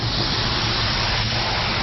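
Spray gun laying clear coat onto a single car body panel, a steady loud continuous hiss of atomized paint close up, unbroken and with no talking.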